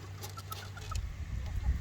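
Chickens clucking softly on a sheep and wool farm, short repeated calls over a low steady rumble of background noise.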